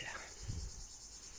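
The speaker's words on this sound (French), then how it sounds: "j'ai droit aux cigales" Cicadas sing under trees at a farm, a continuous high, steady buzzing that is faint and distant and runs through the whole moment.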